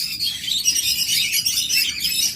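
Pet birds in a breeder's cage chirp and tweet continuously, a dense, bright chatter of many small voices close by with no talking.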